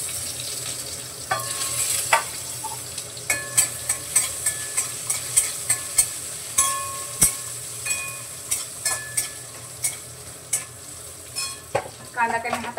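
Finely chopped onion frying in oil in a pan, with a steady loud sizzle and repeated stirring scrapes at an even rhythm throughout.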